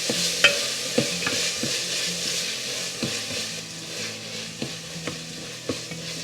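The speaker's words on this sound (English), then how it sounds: "Saute this and allow it to cook till the tomatoes turn soft." Tomatoes sauté with turmeric powder in ghee for one-pot chorizo rice, a soft steady sizzle broken by repeated spatula scrapes and knocks against the pot at an uneven stirring rhythm, close and fairly quiet.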